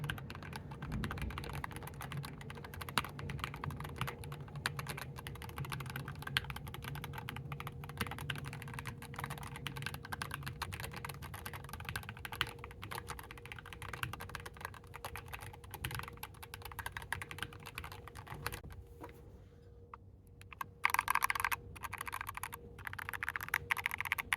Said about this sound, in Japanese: この SA プロファイルのキーボードの音っていうのをですね、まずは聞いていただければと思います